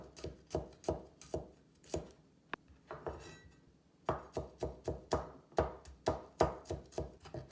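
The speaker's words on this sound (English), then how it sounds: "Next, mince the garlic." Garlic being minced with a knife on a cutting board for a dim sum turnip cake: crisp, steady chopping strokes in quick rhythm, briefly pausing midway before resuming, close and clear with no talking.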